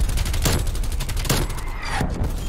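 An artillery strike hits in a Call of Duty Cold War match, with several loud, closely spaced booms and rapid gunfire-like bursts, heard without speech.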